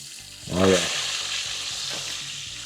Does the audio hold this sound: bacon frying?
yes